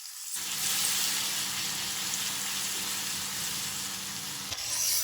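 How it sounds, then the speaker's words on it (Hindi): Garlic ginger paste frying with beef in a hot karahi, a steady dense sizzle that holds loud and close for the whole stretch with no talk over it. "आधा मिनट हम लहसुन अदरक के पेस्ट को भी फ्राई कर लेंगे।"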